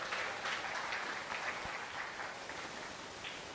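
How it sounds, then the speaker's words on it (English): An audience at a Toastmasters youth leadership event claps steadily for the young speakers, a fairly soft, distant-sounding patter of many hands that continues throughout. "may I ask you to clap a little louder, please, to encourage our young leaders"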